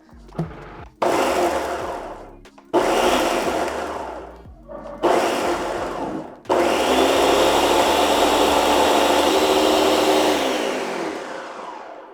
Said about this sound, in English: you can blend up oats into a flour and it works just fine